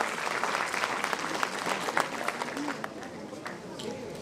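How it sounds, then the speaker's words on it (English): Audience at an NSS award ceremony applauds an award winner, a dense, steady wash of clapping with some cheering voices mixed in throughout. "Please cheer louder for Mr. Vijay Juneja."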